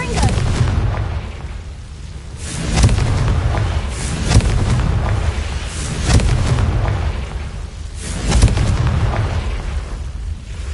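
Confringo fire spell exploding in the Hogwarts Legacy video game: repeated loud, booming blasts about every three seconds over a dense, roaring background, with speech mixed in.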